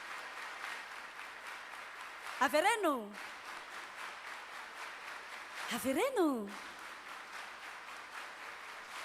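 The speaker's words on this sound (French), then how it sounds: "quand je dis Averenu, vous applaudissez 10 fois" An audience at an event in Antananarivo claps on cue in quick, steady rhythm, fairly faint and continuous, while a voice calls out a cue word twice over the clapping.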